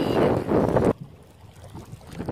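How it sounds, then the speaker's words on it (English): Loud, blustery wind at a lake buffets the microphone for about a second, then drops to a quieter outdoor hush. "It is windy."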